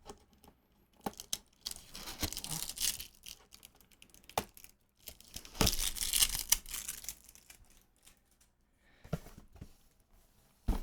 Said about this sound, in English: This feels nice to peel off